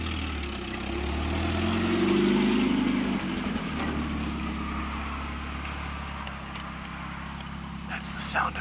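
A car engine runs at a steady low rumble, swelling briefly early on and then settling into an even drone that continues to the end.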